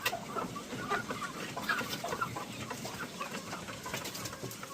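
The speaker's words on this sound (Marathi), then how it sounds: "इतक्या मोठ्या ह्या कोंबड्या झालेल्या आहेत तुम्हाला व्यवस्थित दाखवतो" Grown chickens and crested roosters in a poultry shed give soft, scattered clucks and murmurs over a steady low background hum, fairly faint and continuous, with no talk.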